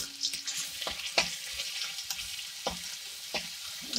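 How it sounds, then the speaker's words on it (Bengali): Garlic paste fries in hot oil with a soft crackling sizzle, punctuated by several sharp stirring clicks and scrapes; close up, with no voices. "রসুনটা একটু তেলে ভেজে নিই।"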